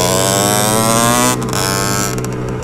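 A 50cc moped engine revs hard while being ridden, a loud, buzzy drone that stays near full throttle, then dips and wavers slightly as the revs change.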